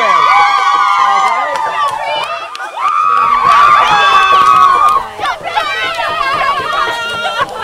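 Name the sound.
high school football game day crowd cheering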